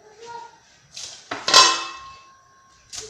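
A metal grill pan is handled in a kitchen, giving a few distinct clanks and metallic rings, the loudest in the middle, with softer knocks before and after.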